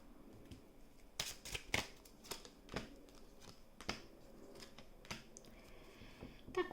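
Lenormand cards being shuffled by hand, heard as a series of crisp riffling and slapping bursts at an irregular rhythm, close and fairly quiet, with no one speaking.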